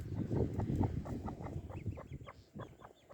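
A hen clucks in short, low bursts, fairly close, with faint higher chirps from chicks scattered through the background.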